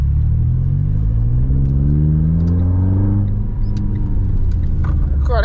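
A car driven on the road while its intake air temperature is being monitored, the engine rumbling loudly from inside the cabin as it accelerates, pitch rising steadily through the gears with a brief dip as it shifts.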